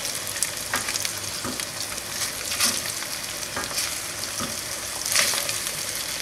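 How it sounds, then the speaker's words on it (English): Chorizo-crusted eggs fry in a pan with a steady, loud sizzle and crackle, with occasional spatula scrapes and spits close by and no talking. "See the chorizo starting to get nice and crispy."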